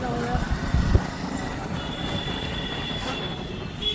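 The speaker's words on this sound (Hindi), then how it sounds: "हमारी ट्रेन आ चुकी है" A train arrives at Old Delhi railway station, wheels squealing and carriages rumbling steadily amid platform bustle, with people talking in the background.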